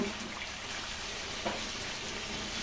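Spices with salt and chili powder sautéing in a pan, a steady close sizzle with soft stirring scrapes and a brief louder crackle midway.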